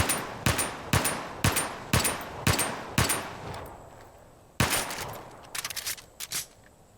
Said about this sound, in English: this Makarov shoots a 9mm round